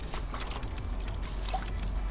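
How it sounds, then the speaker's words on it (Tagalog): Water dripping and trickling in a home vegetable garden abroad where kangkong is grown, a faint, steady wet patter with small irregular drops, close by and alone without talk. "Sayang naman, may natulo pang tubig dito."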